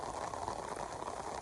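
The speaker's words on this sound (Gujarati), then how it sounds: "વરસાદ આવી ગયો છે અને ભાઈ વરસાદ ઘણો બધો આવ્યો છે" Heavy rain falls on a flooded farm field in rural Gujarat, a dense, steady hiss of drops hitting water and soil heard close and continuous with no voices.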